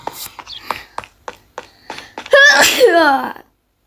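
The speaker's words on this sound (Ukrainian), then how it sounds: "Це то чихнуло." A person sneezes loudly after a run of short taps and clicks, with a strong harmonic burst lasting about a second near the end of the clip.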